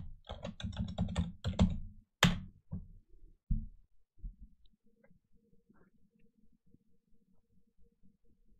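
A computer keyboard clatters as a password is typed, a quick burst of close key presses for about two seconds, a few separate harder taps, then faint scattered clicks trailing off into quiet.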